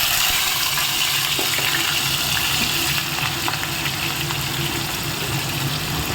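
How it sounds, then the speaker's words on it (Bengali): Chopped onions sizzle in oil in a kadai, a steady, dense hiss that continues throughout with no voices. "পেঁয়াজ কুচিটা দিয়ে দিচ্ছি। পেঁয়াজটা একটু লাল লাল করে ভেজে নিচ্ছি।"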